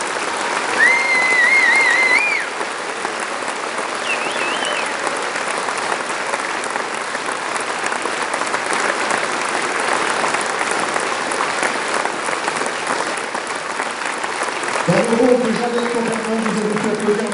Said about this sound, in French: je tiens vraiment un énorme tonnerre d'applaudissements aux professeurs et aux élèves investis sur ce projet